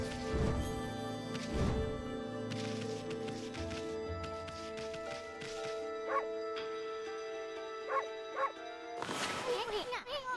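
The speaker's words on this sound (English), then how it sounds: "We can go bark at it." Amaterasu, the white wolf of the video game Ōkami, gives several short in-game barks and yips over sustained game music, with a few further chirpy effects toward the end.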